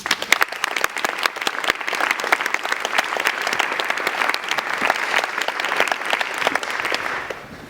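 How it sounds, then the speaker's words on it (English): An audience at a conference talk gives a steady, dense round of applause lasting several seconds, many hands clapping at once from around the room with no speech over it. "I think that deserves a round of applause"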